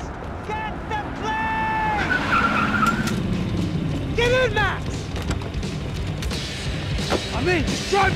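Car tires squealing and skidding in the shooter game Max Payne 3, repeated screeching slides over a revving engine and chaotic noise, with shouting voices throughout.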